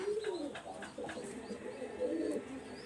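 Two young White Golden pigeons coo softly in repeated low, throaty phrases, close by and fairly quiet, with no talking.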